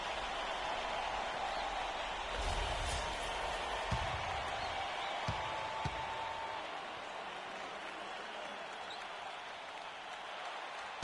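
Basketball arena crowd roaring and cheering after a made shot, a loud sustained wall of noise with a few sharp bangs, continuing steadily throughout.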